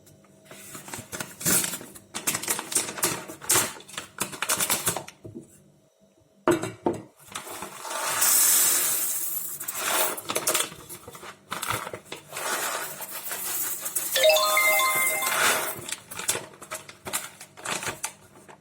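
Coffee beans, about 150 grams, tossed and rattled in a dry pan while roasting, giving irregular clattering and scraping bursts with short pauses and brief metallic clinks.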